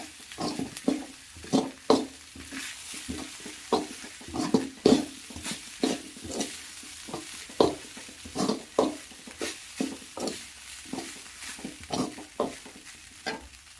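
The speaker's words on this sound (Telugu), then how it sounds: "ఇవన్నీ వేసుకొని ఇలా మనము ఫ్రై చేసుకోవాలి హై ఫ్లేమ్లోనే చేసుకోవాలి" Vegetables for fried rice are stir-fried over a high flame, with steady sizzling and a quick, regular rhythm of spatula strokes scraping the pan for the whole stretch; no one speaks.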